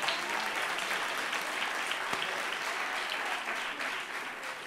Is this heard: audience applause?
yes